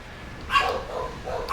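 Dogs bark indoors, a short burst of one or two yips followed by another bark a moment later, moderately loud against a quiet room.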